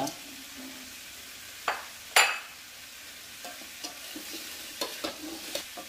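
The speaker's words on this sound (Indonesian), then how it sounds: "Kita aduk-aduk terus sampai betul-betul wangi, tapi tidak terlalu lama juga" Tempe and tofu with spices frying in a pan, a soft steady sizzle broken by occasional sharp scrapes and clinks of a utensil stirring, close and fairly quiet, no voices.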